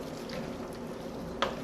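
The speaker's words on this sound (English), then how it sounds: "We want to stir it up" A spoon stirs succotash in a pan dressed with cider vinegar, giving a soft, steady wet scraping with a faint sizzle. A brief sharper clink comes near the end.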